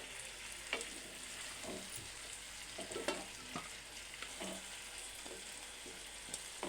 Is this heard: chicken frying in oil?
yes